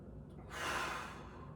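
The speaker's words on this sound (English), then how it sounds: "Big breath." One big inhaled breath taken during an exercise routine, close and breathy, lasting just under a second in a quiet room.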